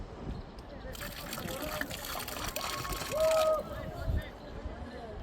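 Baltic Sea water trickling and splashing as it is poured into the Ganges river, a soft continuous dribble over outdoor ambience with a brief brighter splash midway and voices murmuring nearby.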